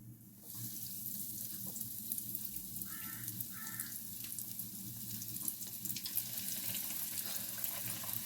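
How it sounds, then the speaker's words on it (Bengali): Veg lollipops fry in hot oil in a kadai with a soft, continuous sizzle and bubbling, close by and steady, with a couple of faint clinks and no talking. "এবার এগুলোকে তেলে ফ্রাই করে নেবো।"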